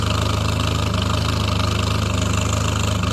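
A 1975 Triumph Spitfire engine idles smoothly and steadily up close, a continuous even rumble with no talk over it.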